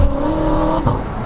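A loud, throaty aftermarket exhaust on a 700bhp BMW M6, droning up close, with the engine note shifting and briefly surging near the end.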